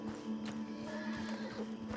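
Horse in the video game Red Dead Redemption 2 lets out a short whinny and snort over hoof clops and a low steady hum, fairly close and moderately loud.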